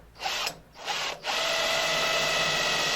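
A power drill bores starter holes into the wing of a Fordson Major tractor for new lights, two short whirring bursts followed by a longer sustained run, close and loud.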